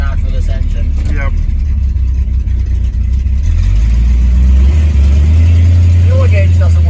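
A 1968 Pontiac Tempest engine, warm and running a carburetor not matched to it, is floored from inside the car. A low drone swells into a heavy, rising roar over the last few seconds, with voices faintly audible beneath.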